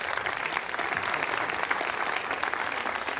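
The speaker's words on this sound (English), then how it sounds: "And you hear the applause." Sustained applause in a rocket launch control room after confirmation that the EyeSat and OPS-SAT satellites separated from an Arianespace Vega launcher, dense steady clapping from many people at moderate distance.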